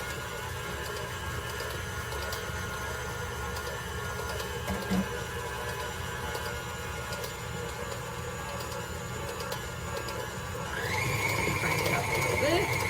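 An electric stand mixer beats eggs into carrot ginger cupcake batter, a steady whirring motor hum with faint scraping that rises to a higher-pitched whine as the speed is turned up near the end.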